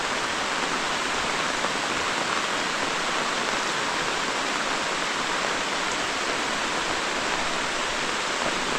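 Heavy, torrential rain pours steadily onto a tent at a woodland campsite on abandoned coal mine land, a dense, even hiss with no pauses.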